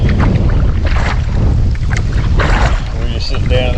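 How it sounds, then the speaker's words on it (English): Steady wind rushes across the microphone while a canoe is paddled down the Yukon River during a long-distance race, a loud, continuous broadband roar with faint water sounds underneath. "So the wind picked up."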